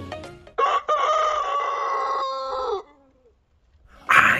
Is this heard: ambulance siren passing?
no